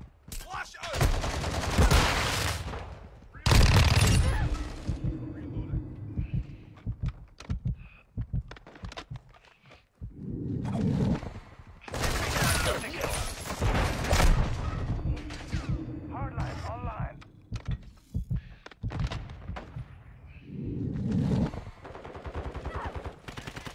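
Video game shooter gunfire, bursts of rapid automatic fire and single shots recurring across the stretch, loud and close, mixed with game effects and voices talking over the action.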